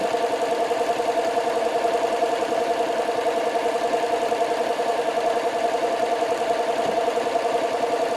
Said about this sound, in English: I'm going to have a needle down and let's pivot around and continue sewing